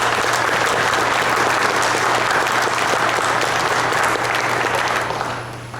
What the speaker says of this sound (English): I'd like to have a round of applause to Jerry and all the volunteer judges who worked our event